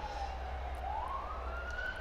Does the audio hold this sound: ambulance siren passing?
yes